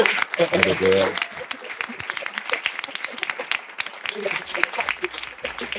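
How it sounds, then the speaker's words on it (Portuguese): A stadium crowd in the stands at a church faith-and-football event claps, with scattered applause running beneath voices talking and calling out over it. "Bora aplaudir ao Senhor pela vida dos dois."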